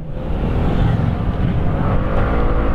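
A Fekon Venture ADV 180 motorcycle accelerates on the throttle, its engine giving a loud, steady roar that holds close and continuous for a few seconds with no speech over it.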